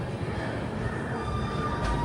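An Intercity Express train rolls out of a Bengaluru station early in the morning, a steady rumble of wheels on rails with a faint thin squeal over continuous low noise.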